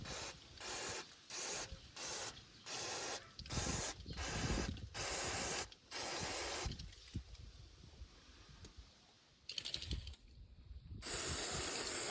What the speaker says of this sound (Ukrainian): все промиваю спреєм